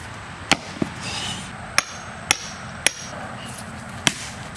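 Six sharp metallic hammer strikes ring out at uneven intervals, close and loud, with quiet background between blows, during a coilover install on a Honda Civic sedan.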